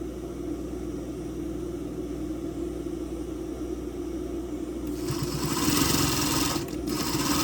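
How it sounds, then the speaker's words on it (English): A sewing machine hums steadily, then speeds into a louder, fast whirring run of stitching elastic onto bra cups before easing back slightly. "letting the sewing machine stretch it"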